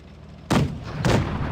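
Two heavy tank cannon shots boom in a video game tank battle, roughly half a second apart, each a loud sharp blast with a rumbling tail over faint background hum.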